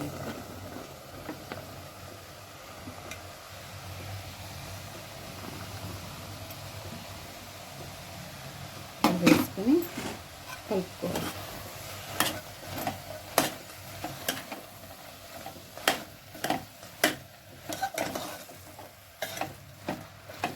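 Ridge gourd pieces tipped into a pan of hot oil, starting with a steady low sizzle, then a run of repeated stirring scrapes and clatters from about halfway on, close and moderately loud with no talk.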